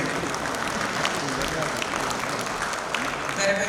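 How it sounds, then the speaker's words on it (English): A conference audience at a women's session claps continuously, a dense, even wash of applause that holds steady and swells slightly at the end. "have a round of applause because these ladies truly deserve it"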